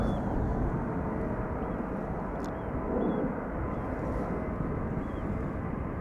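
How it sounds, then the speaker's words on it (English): Singapore Airlines cargo Boeing 747-400 departing Schiphol for London Heathrow in a crosswind, its jet engines a faint, distant, steady rumble with a brief swell near the middle. "Singapore Airlines cargo Boeing 747-400 to London Heathrow"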